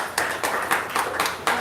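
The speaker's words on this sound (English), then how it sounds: "So let's give her a round of applause." Sparse, scattered handclaps from a small audience at a live event, about half a dozen distinct claps at an irregular pace, fairly close and moderately quiet.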